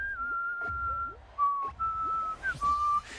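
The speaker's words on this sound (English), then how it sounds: "I should probably stop whistling that." A person whistles a tune in clear sustained notes with short pauses between phrases, close and fairly loud, over a faint game background.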